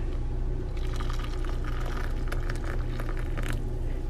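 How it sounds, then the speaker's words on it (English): Hot water from an electric kettle pouring steadily onto oats in a bowl, a continuous close rushing, gurgling splash throughout with no talk. "And then we're going to do 2/3 cup of hot water"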